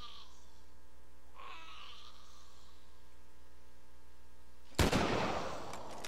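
A single sharp, loud gunshot in the zombie survival video game The Walking Dead: Survival Instinct cuts through a quiet, humming background and then decays quickly.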